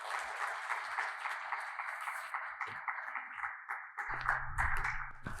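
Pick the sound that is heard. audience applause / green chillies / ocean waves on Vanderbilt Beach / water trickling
audience applause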